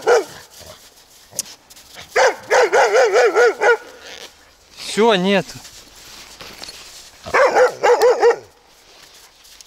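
A dog barks in several close, rapid bursts with yips and a whining howl, while someone speaks between them outdoors during a metal detecting dig; footsteps are faintly audible.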